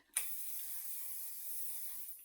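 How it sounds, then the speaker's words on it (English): A steady, continuous aerosol hiss of hairspray, starting abruptly and holding at even strength for about two seconds before cutting off. "just use your hairspray, cover your head"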